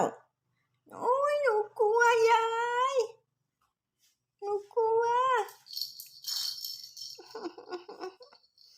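A kitten that fell from a roof calls out in a few drawn-out, wavering meows at close range, followed by lighter rustling and scattered higher sounds.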